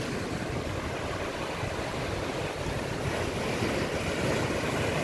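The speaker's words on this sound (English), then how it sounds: "This is Hastings Beach here." Ocean surf at Hastings Beach on the south coast of Barbados makes a continuous broadband wash, with wind buffeting the microphone. It is fairly faint and has no voices.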